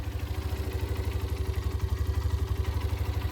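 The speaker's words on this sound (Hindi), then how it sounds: "यहाँ से देखो मैं बाइक ऑन करता हूँ और बाइक ऑन हो चुकी है" Hero Xtreme 125R motorcycle idling close by, a steady low putter with a regular pulsing beat and slight clatter, running alone with no speech.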